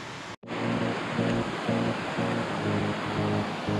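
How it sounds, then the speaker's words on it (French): A rushing mountain torrent beside a wooden footbridge on a cool morning, heard close as a loud, continuous broadband roar of water with no pauses after a brief cut at the start. "je suis au bord d'un torrent qui est magnifique"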